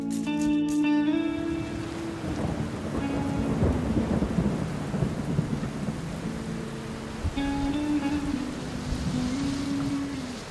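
A lightning storm over the Balearic Islands, heard from a sailing boat, brings a deep rolling rumble of thunder through a steady hiss of rain, with tonal whining sounds at the start and again near the end.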